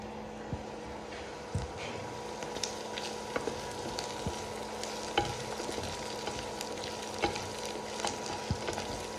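Finely chopped ginger frying for Punjabi langar-style dal gives a steady, faint sizzle and crackle with a continuous hum and scattered small pops and stirring clicks.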